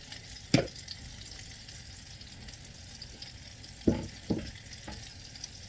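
Eight apple fritters frying in hot oil, a steady close sizzle running throughout, broken by a few sharp clinks and taps near the start and toward the end.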